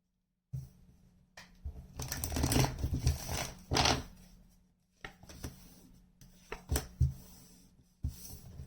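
Tarot cards are shuffled in quick riffling bursts with papery slaps, separated by short pauses.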